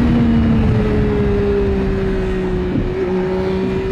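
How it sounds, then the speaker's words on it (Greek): A Triumph Tiger 1050 motorcycle engine holds a steady high-revving drone on a road ride, loud and continuous throughout with a brief dip in pitch near the end. "Κλασικός κινητήρας Triumph"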